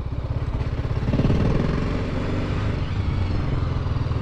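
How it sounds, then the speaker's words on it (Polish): A BMW motorcycle engine chugs with a rapid, uneven idle pulse that swells slightly in loudness midway, close by with no talking. "Nie, naprawdę, bardzo przyjemny motocykl."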